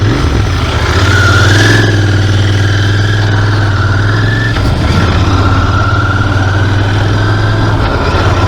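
A vehicle engine runs loud and close as the ride gets under way, a steady low hum with a rising whine that shifts pitch midway, no talk.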